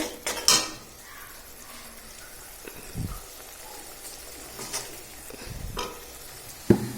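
Spice paste is sautéed in a pan for a tangra fish curry, a low simmering sizzle broken by occasional spatula scrapes and clinks against the pan, with one louder knock near the end and no one talking.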